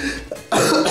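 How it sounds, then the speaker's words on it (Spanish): A single close cough with a harsh burst, followed by a rougher, louder second cough, heard alone. "Ay, qué tos."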